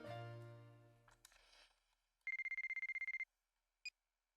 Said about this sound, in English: Okay, phone call.